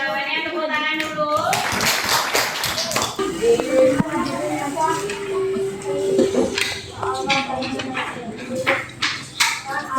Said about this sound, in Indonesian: Jawabannya tepuk tangan dulu.